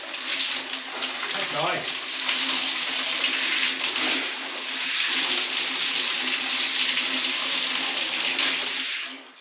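Warm water runs steadily from a newly plumbed outdoor kitchen tap at a ruined house renovation, a continuous close hiss of flowing water, with people briefly speaking.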